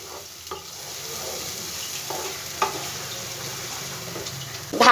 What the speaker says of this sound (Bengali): এবার দেব টমেটো বাটা। কিছুটাই মশলা আমি আগে ভেজে নেব